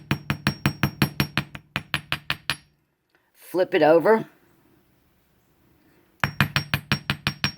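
Wire wrap jewelry component struck with a hammer on a steel bench block, sharp metallic blows in fast even bursts, close and loud, pausing while a person speaks briefly, then resuming.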